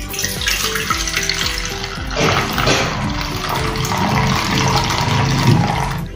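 Water being poured off a bowl of overnight-soaked rice batter for papad, a steady splashing, gurgling pour that runs close and fairly loud for the whole stretch, with no voices.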